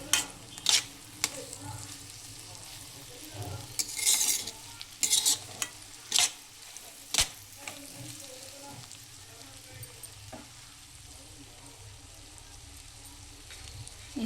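Cumin seeds fry in a pan while a spoon stirs them, making sharp scattered clinks and scrapes over a low steady sizzle that runs through the whole clip.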